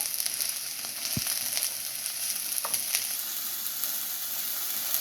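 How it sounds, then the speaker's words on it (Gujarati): Cabbage, carrot and bell pepper stir-frying for Hakka noodles, a steady close sizzle with a few scraping stirs of the spatula, no one talking. "કેબેજ, ને બેલ પેપર બધું મિક્સ કરી દઈશું."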